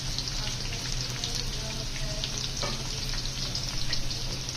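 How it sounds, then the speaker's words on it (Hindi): Cumin seeds fry in oil in a pot for cumin rice, giving a steady, close hiss and crackle of sizzling that runs continuously with small pops and no voices. "थोड़ा सा हमने ज़ीरे को फ्राई करना है इसके अंदर।"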